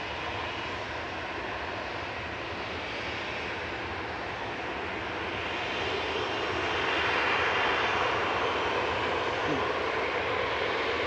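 Ryanair airliner at Manchester Airport, a steady moderate jet engine roar that grows somewhat louder in the second half, broad and continuous with no voices over it.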